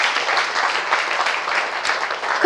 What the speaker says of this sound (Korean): 일단 이 대목에서 박수 한번 치세요